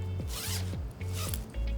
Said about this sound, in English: The zipper is self-repairing and structured, which keeps the top open so you can easily toss stuff inside.